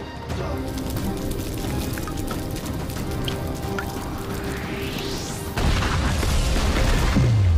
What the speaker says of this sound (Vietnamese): Thiên Lôi, sắp nổ rồi.